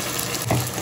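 Spice paste hitting hot oil and frying, a continuous close sizzle that swells into a louder, rougher burst near the end as the paste lands and is stirred.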